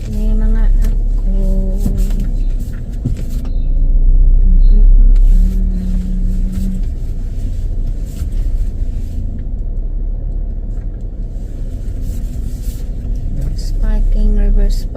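A car engine rumbles low and steady while the vehicle reverses into a parking space, with voices talking over it throughout.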